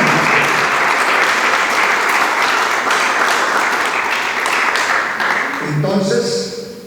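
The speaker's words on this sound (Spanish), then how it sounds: "Den palmas al Señor." A church congregation claps their hands, a dense, loud wash of applause that runs steadily for several seconds before thinning out as a voice begins speaking.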